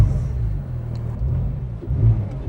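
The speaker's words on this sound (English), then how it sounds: "there is that flat 6 turbocharged engine in the back that you can still hear" Flat-six turbocharged engine of a Porsche 911 Turbo S, mounted in the rear, rumbling and revving steadily at close range, with a brief swell in intensity near the end.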